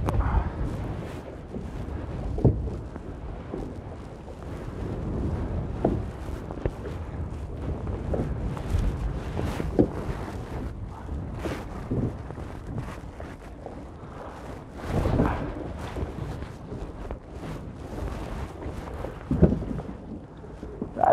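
Wind buffets a fishing boat on Topdalsfjorden in Norway, a continuous rumbling roar over the microphone with repeated louder gusts and knocks.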